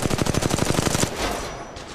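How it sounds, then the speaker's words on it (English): Rapid automatic gunfire from an R-301 or EVA-8 in Apex Legends Mobile, a steady burst of about a dozen close, loud shots lasting a second, then trailing off into a rumbling, echoing tail. "Getting shot at."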